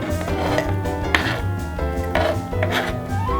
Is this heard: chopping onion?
yes